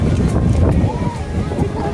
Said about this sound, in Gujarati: તમે જોઈ રહ્યા છો કેટલો પવન આવી રહ્યો છે અને મોજાઓ કેટલા ઊંચા ઉછળી રહ્યા છે